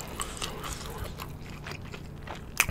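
Someone eats Cheogajip Supreme yangnyeom fried chicken up close, with soft crunchy bites and wet chewing that continue steadily at a low volume, ending on a sharper crunch.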